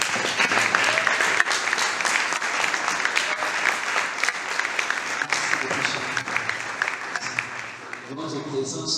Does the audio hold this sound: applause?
yes